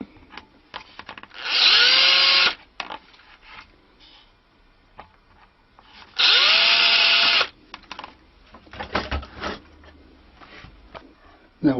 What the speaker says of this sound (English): Then we mark a corresponding hole on the stick dulcimer. It's also drilled out.